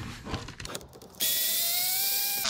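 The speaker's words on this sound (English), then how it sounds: "So the best tool I have for this is the little Bosch here with the right angle attachment." Small Bosch power tool with a right angle attachment drives a screw on an Axial SCX10 III RC crawler, starting after some handling noises with a loud steady whine whose pitch slowly falls.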